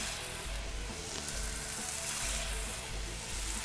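Meatballs sear in olive oil in a very hot frying pan, giving a loud, dense, continuous sizzle close up with no talking.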